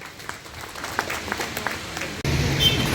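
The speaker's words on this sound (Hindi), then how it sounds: "जोरदार तालियों से" An audience at a public health event in Damoh applauds an AYUSH department official: steady, dense clapping from a crowd that runs throughout, breaks off sharply near the end, then resumes as a louder, fuller wash.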